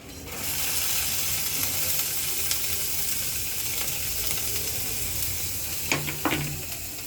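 Garlic and chili frying in hot oil in a home kitchen, a steady loud sizzle throughout with a few sharper crackles and stirring clatters near the end, no talk.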